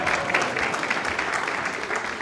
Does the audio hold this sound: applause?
yes